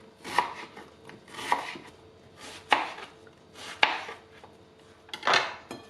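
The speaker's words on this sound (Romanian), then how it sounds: "Ceapa o tăiem în felii mai groase." Knife chops through an onion into thick slices on a board, five distinct crisp cuts spaced about a second apart, close and alone with faint kitchen background.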